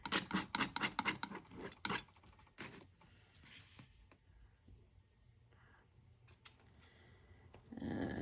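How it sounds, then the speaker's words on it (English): A palette knife drags paint across a canvas in quick, rhythmic scraping strokes at first, then the sound trails off into faint, sparse rubbing in a quiet room. "use the ends to scrape across and do some mark making that way"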